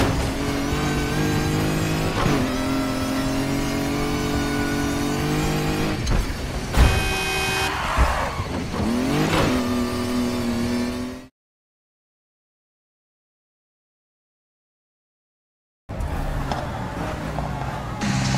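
Need for Speed Heat car engine roaring and accelerating during a police chase, loud and continuous with rising revs and a sharp squeal-like burst, cutting to silence for several seconds before the engine noise resumes.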